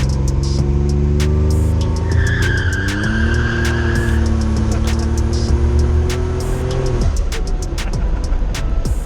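A car engine running very rich revs hard, its pitch climbing and holding at full throttle before abruptly dropping off, loud and close with sharp crackles throughout.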